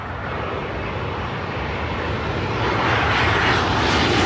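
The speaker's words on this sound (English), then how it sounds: "I don't believe it. How did I get that wrong? That's an Airbus A320." An Airbus A320 airliner flies over runway 27 left at Heathrow, its loud, steady engine roar filling the air and swelling gradually as it passes close by, with no voices.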